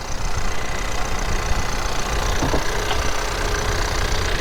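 A 2.0-liter turbocharged four-cylinder in a 2022 Ford Maverick Lariat pickup idles steadily with the hood open, a constant close-up engine drone with no talk over it.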